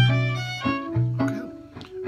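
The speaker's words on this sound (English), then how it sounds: "Let's go down twice as fast with the fourths." A violin or cello plays a quick descending line harmonized in fourths over a bossa nova feel, a short run of bowed two-note steps heard close and clear with no talking.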